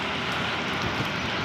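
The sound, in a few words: heavy continuous rain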